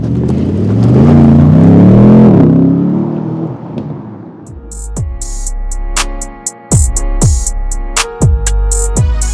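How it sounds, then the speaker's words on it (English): Aston Martin Vantage S exhaust in Sports Plus mode: a loud, rising engine rev with a deep growl, then a series of sharp crackling pops and bangs from the open exhaust as the throttle lifts, with no talk. "The exhaust opens up, the throttle sharpens"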